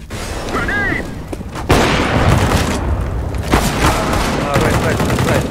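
Grenade blast in Counter-Strike: Global Offensive, a loud broadband boom erupting midway and rolling into continuous gunfire and crackling bursts amid chaotic round action, with a brief voice earlier.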